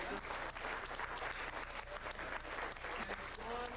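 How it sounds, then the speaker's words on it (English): Sustained applause from the audience at a magic club's Valentine's Day brunch, a dense, steady patter of many hands continuing evenly throughout without a break. "Round of applause for Gil Wild"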